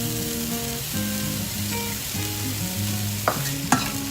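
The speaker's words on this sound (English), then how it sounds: "Now I'm just going to stir all of this together" Feta cheese being stirred into spinach in a pan over low heat: steady soft scraping and mixing with a continuous gentle sizzle, close and clear, with a couple of sharper utensil knocks near the end.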